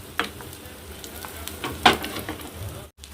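An omelette fries in oil in a pan, its low, steady sizzle broken by a few sharper crackles and spatters close by, with no one talking.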